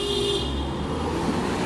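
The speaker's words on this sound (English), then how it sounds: "Someone just honk at a person crossing the street." A car horn on a city street gives one short honk at a pedestrian crossing, heard close and loud over a low rumble of road traffic.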